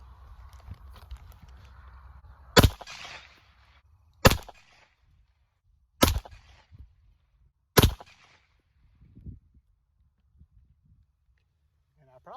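Four 9mm pistol shots from a ladder test with Gallant bullets, Titegroup powder and Starline brass, fired one at a time about two seconds apart. The loud sharp cracks stand out against quiet, low background rumble.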